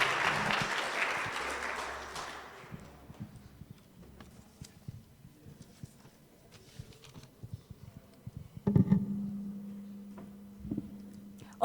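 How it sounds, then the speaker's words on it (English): Applause from a conference audience after a keynote presentation fades out over the first few seconds, followed by scattered taps, shuffling and a hum in a quiet room. "With an applause."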